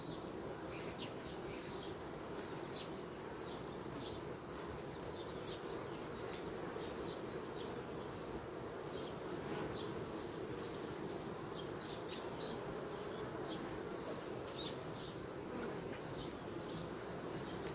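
A honeybee colony hums with a steady, low drone throughout, faint and continuous, with many small buzzing bursts layered over it and no talk.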